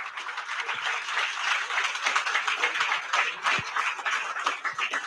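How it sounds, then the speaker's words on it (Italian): Steady audience applause greets Riccardo Donadon at a public talk, a dense, even wash of clapping at moderate volume. "un grande applauso,"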